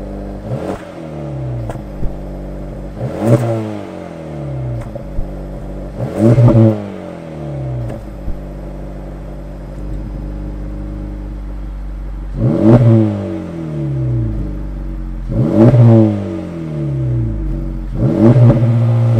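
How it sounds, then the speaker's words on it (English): An Acura Integra Type S exhaust revs in short blips, about six throttle bursts rising and falling around a steady low idle, loud and close, held to moderate rpm. "And the exhaust sound on here, I'm going to put y'all the clip on here."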